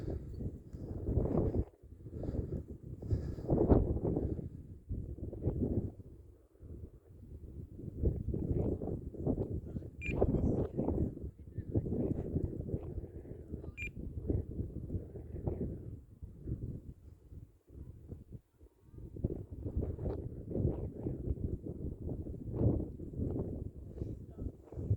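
Gusty wind buffets the microphone at a field where an E-flite Air Tractor 1500mm RC plane is flown, producing loud, uneven low rumbling bursts with brief lulls across the whole stretch, and faint talk now and then.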